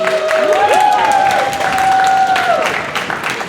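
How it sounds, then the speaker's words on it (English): A concert audience claps and cheers steadily as a performer walks on stage, a loud continuous wash of applause with some tonal sounds layered over it. "the audience greeting her with clapping and cheering"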